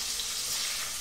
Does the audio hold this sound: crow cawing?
no